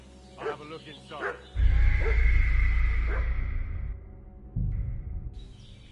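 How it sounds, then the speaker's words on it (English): Dog barking and whimpering in Kingdom Come Deliverance II: a few short yips near the start, then a louder stretch of fussing over a heavy low rumble, with a brief high tone near the end and people talking throughout. "What's that dog making such a fuss about?"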